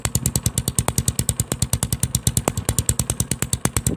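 A Yamaha Scorpio motorcycle with an aftermarket Merk IND manifold idles while warmed up, a steady, close, evenly pulsing exhaust beat with a slightly clattery edge, alone with no voices.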